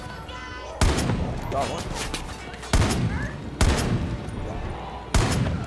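Sniper rifle fire in the video game Far Cry 5, with four loud, sharp shots spaced a second or two apart, each with a brief echoing tail, over game music while someone talks.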